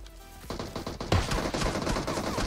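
Rapid bursts of gunfire in PUBG Mobile, a close flurry of repeated shots firing steadily and loudly through the whole moment with no talk over it.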